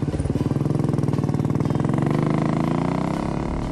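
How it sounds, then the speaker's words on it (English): A Royal Enfield Bullet motorcycle, a single-cylinder engine of about 25 horsepower, idles with a steady, loud, close thumping pulse that quickens and smooths slightly toward the end, with no voices over it. "But the engine idles cleanly and has good bottom end pull."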